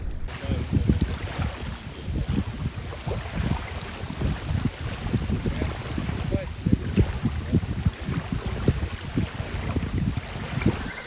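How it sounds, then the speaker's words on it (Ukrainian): Steady gusty wind buffeting the microphone outdoors while feeder fishing, with low rumbling bursts throughout and a faint voice in the background. "вітер такий ще піднявся"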